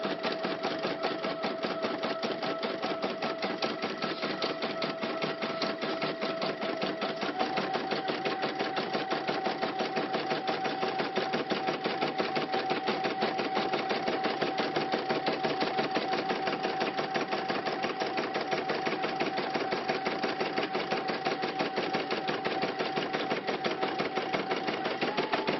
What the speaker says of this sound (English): The stitch that's going right now is just a securing stitch